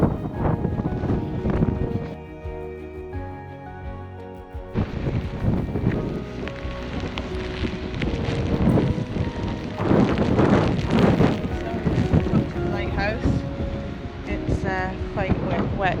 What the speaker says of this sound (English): Quite wet and windy now